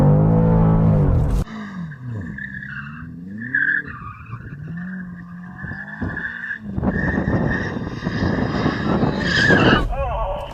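A BMW M5 CS spinning its tyres to warm them up, loud screeching tyre squeal and revving engine up close, with excited voices talking and shouting over the noise.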